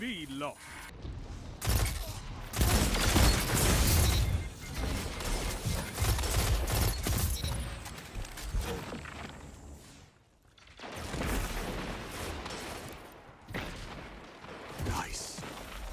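Gunfire during a video game gunfight: dense, booming bursts of shots and explosions that rise and fall, with a brief lull midway before firing resumes, under occasional talk.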